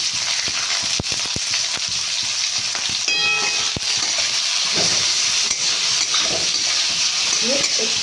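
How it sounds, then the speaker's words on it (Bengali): Vegetables seasoned with salt and turmeric sizzle steadily in a frying pan, with irregular spatula knocks and scrapes against the metal as they are stirred, close and continuous. "একটু নাড়াচাড়া করবো"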